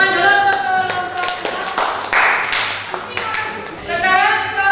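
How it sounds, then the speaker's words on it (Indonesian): A classroom of students applauds a student group, a scattered run of hand claps of uneven density mixed with voices, close and moderately loud indoors. "Tepuk tangan dulu untuk kelompok"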